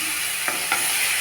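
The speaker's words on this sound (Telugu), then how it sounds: "ఇంకొకసారి ఫ్రై చేసుకున్నాం." Ivy gourd chutney with tomatoes fries in a pan with a steady hissing sizzle, broken by two quick scraping stirs close by.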